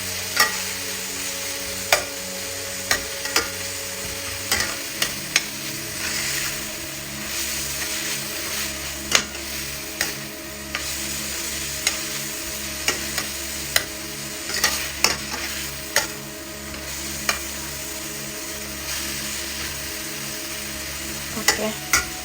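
Cannelloni filling of ricotta and spinach sizzles steadily in a hot pan while a spoon stirs and scrapes through it, sharp clacks recurring every second or two over the continuous frying hiss, with no talking.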